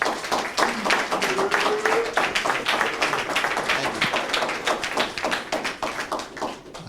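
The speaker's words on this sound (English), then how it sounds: "let's give Trey a round of applause" A graduation-class audience applauds an instructor: steady, dense clapping from a roomful of people, sustained throughout and fading slightly at the end.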